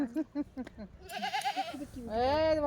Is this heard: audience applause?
no